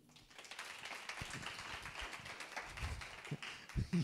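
A church congregation claps together, a steady wash of many hands at moderate distance, with a few sharper nearby claps and low thumps toward the end.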